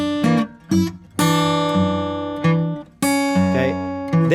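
A phrase played fingerstyle on guitar with a sharp-five chord voicing, heard up close as a few short plucked notes followed by longer ringing chords, alone without talk.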